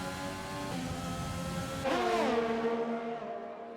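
A Ferrari Formula 1 car in an F1 racing video game at Bahrain runs at a steady high-pitched whine, then gives a short rising and falling rev as it passes or shifts. The sound fades slightly afterward and no one speaks.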